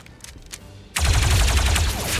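Gunfire in the Star Wars Zero Company video game: quiet clicks, then an abrupt loud burst of rapid shots that sustains to the end, with no voices.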